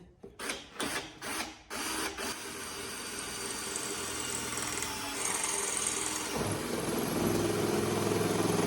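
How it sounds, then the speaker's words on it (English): A few quick mechanical bursts, then a steady whirring drill running continuously, its pitch shifting slightly as it bores a hole in a 1997 Classic Mini. "It's a simple case of trying to drill a hole."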